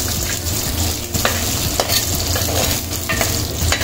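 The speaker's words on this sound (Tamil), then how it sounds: "இந்த பாருங்க வெங்காயம் எல்லாம் நல்லா பொரிஞ்சிருச்சு" Onions frying in oil for a fish curry, stirred continuously, giving a loud, close, steady sizzle broken by repeated scraping strokes against the pan, with no voices.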